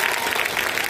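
Dense, steady applause from a large audience at a stage event, continuous clapping filling the whole second at close range with no voices over it.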